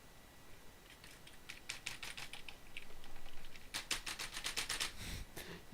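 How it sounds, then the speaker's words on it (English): Arrow keys on a computer keyboard are mashed in rapid clusters of sharp plastic clicks, one flurry early and a denser burst later, close and clear with no talking. "You can probably hear me just mashing the arrow keys"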